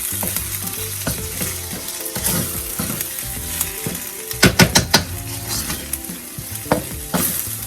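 Southwest seasoned rice sizzles steadily in a pan as it is stirred, with scraping utensil strokes and a cluster of sharper clinks against the pan midway, no talking.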